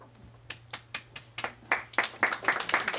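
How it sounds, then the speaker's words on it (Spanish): Applause at an academic lecture on antique books, starting with a few separate hand claps that quickly build into a quicker, denser round of clapping. "nuevamente un aplauso"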